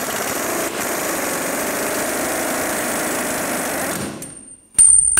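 A power tool spins a 21 mm socket on the lower shock bolt of a 2009-2017 Chevy Traverse during rear coil spring work, running steadily and close for about four seconds before stopping with a short clatter.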